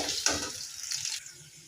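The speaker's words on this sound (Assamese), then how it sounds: "পিঁয়াজখিনি ভাজি আছোঁ" Onions fry in hot oil in a wok, a soft, fairly quiet sizzle with a brief splash-like burst near the start that tapers off toward the end.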